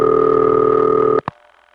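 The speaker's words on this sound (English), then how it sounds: "that second ring is a bell system standard ring." A 1970s Bell System standard telephone ring heard over a heavily attenuated long-distance connection, one steady loud buzzy tone lasting over a second, cut off abruptly, then a brief click and faint line hiss.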